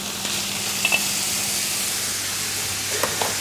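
Lamb mince sizzling in hot oil, a steady close frying hiss with a few small crackles and stirring clicks, no talking.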